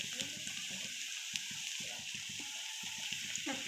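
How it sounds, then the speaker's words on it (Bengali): Chopped onion and two dried red chillies fry in hot oil in a home kitchen, giving a soft, steady sizzle with scattered crackles and faint stirring clicks throughout. "তেল গরম হয়ে গেছে, আমি পেঁয়াজটা দিয়ে দিলাম।"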